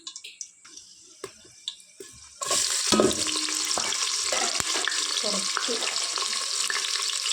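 Sliced onions dropped into a hot pan with cinnamon, cloves and cardamom for ghee rice. Faint taps and stirring come first, then a sudden loud, continuous sizzle with scraping.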